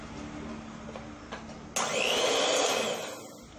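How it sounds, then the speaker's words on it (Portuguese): An electric hand mixer beats a coffee mixture for whipped creamy coffee, starting abruptly with a loud, steady whirring drone after a quiet stretch with faint handling noises. "vou usar a batedeira elétrica, que com o fouet é 10 minutos e com a batedeira é 3 minutos"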